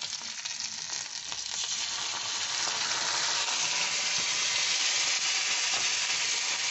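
Boiled potato and fish spices frying in a pan, a steady loud sizzle and hiss that swells a little and then holds evenly, with no talk.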